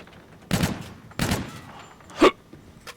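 Gunfire in the shooter game Call of Duty: Infinite Warfare: three separate loud bursts roughly a second apart, the last one short and punchy, over a quiet background.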